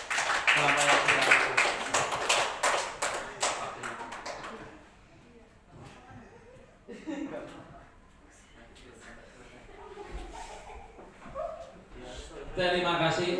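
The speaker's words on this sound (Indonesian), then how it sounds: "tepuk tangan untuk kelompok yang sudah" Classroom applause for a student group in a maths lesson, a dense burst of many hands clapping at the start that fades after about four seconds, followed by scattered talk and a few stray claps.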